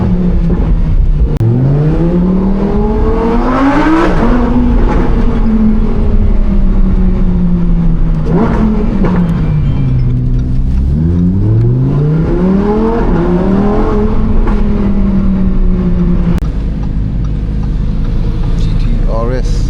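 A Lamborghini Huracan Performante's engine drones steadily while driving in London, loud and continuous, its pitch climbing and falling through gear changes and rising revs.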